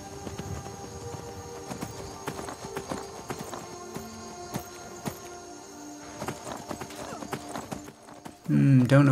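Horse hooves clip-clop in a steady walking rhythm during a ride in Skyrim, close and moderately loud, with ambient game sounds around them, a voice talking, and a louder burst at the end.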